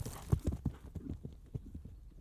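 Hooves thud in a quick, uneven clip-clop rhythm from a single horse, close and fairly soft, with no voices.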